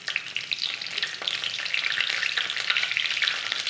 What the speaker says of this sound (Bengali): ও কড়াতে দিয়ে দেব আমি তেল। দুটো শুকনো লঙ্কা আর দিয়ে দেব তেজপাতা